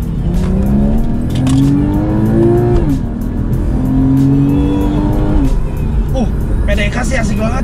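A sports car with a PDK gearbox accelerates hard, its engine rising in pitch through two pulls with a brief shift between them and faint tire noise, while people talk inside the cabin.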